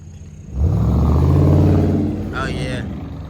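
Car engine revving hard at a car meet, a loud sustained rumble that swells in for a few seconds and holds, with a second higher whine joining near the end.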